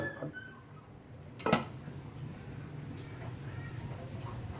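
A metal lid clanks down once onto a cooking pot of pork-hock sinigang, a short sharp clatter in the middle, followed by steady simmering and kitchen noise.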